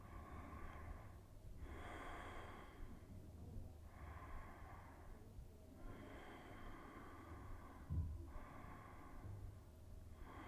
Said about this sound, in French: venez mettre légèrement Ujjayi, la respiration sonore.